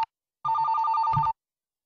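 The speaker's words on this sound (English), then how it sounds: "Every time when that phone rings" A telephone bell rings in a horror game set in a police station, one short burst of rapid, bright electronic trills, loud and close, alone in otherwise near silence.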